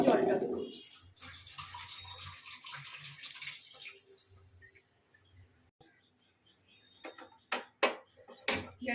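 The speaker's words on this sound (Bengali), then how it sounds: "এই একটু শিলটা ধুয়েও জলটা দেবো।" Water splashing and running as a stone grinding slab (shil) is washed in a home kitchen: a loud gush at the start, then quieter trickles and a few sharp drips and clinks near the end.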